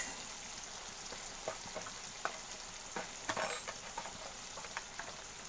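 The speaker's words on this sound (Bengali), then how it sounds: "দেখো মশলাটাকে আমি একটুখানি কষিয়ে নেব" Ground spice paste sizzles steadily in hot oil with nigella seeds as it is sautéed for a Bengali fish curry, with scattered sharper crackles and a few spatula scrapes throughout.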